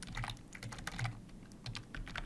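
Someone types on a computer keyboard while building a Power BI calculation, a quick, close, irregular run of key clicks for about two seconds, with no voices.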